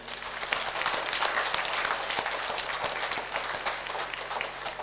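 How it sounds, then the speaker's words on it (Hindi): A congregation at a priest ordination gives sustained, dense applause of thanks, with many hands clapping at a steady level throughout and a few sharper claps standing out. "धन्यवाद स्वरूप ताली बजाएंगे"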